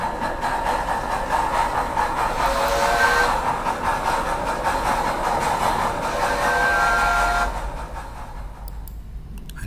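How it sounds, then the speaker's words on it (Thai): A train rumbles past with a steady low roar and rhythmic wheel clatter, loud and close, easing off toward the end, with no speech. "น่าจะเป็นรถไฟใช่ไหมครับ"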